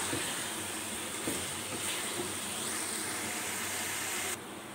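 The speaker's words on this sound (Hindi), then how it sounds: "1 से 2 मिनट जो है वो भून लेंगे आलूओं को भी" Potatoes frying in a pan for a chicken potato curry give off a steady, close sizzle and hiss that holds evenly throughout, then drops slightly near the end.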